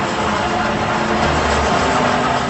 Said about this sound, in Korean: 여기에서는 수백만 톤의 석회석을 잘라내는데 기계톱을 사용하고 있다